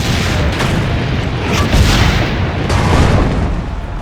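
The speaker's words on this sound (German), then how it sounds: "würde sagen, dass die Kanonen schießen." Cannons fire during a battle in the video game Assassin's Creed Brotherhood, making a loud, continuous rumble of deep booms that swells and fades.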